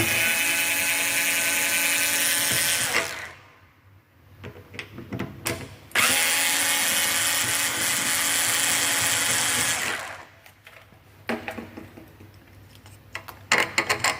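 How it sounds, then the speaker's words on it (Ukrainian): A cordless screwdriver whirs loudly in long bursts while unscrewing the handle screws of a plastic window, with a short pause and a few brief stuttering spins between runs. "В моєму випадку акумуляторна викрутка."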